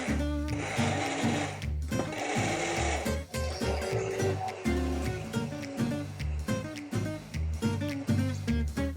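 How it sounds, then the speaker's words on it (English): A kitchen blender purees strawberries for a no-bake strawberry cheesecake, a loud continuous motor whir with a churning, shifting pitch as the fruit breaks up, with no talking. "we just want to give them a good blend, good puree, until we get up to a nice fine consistency"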